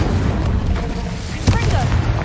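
An Incendio fire spell cast in the game Hogwarts Legacy erupts as a sudden whooshing burst midway through a low, rumbling background.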